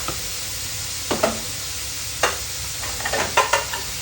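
Shrimp and squid stir-fry with oyster sauce being stirred in a pan, a few distinct scraping strokes over a soft steady sizzle, close and alone without talk.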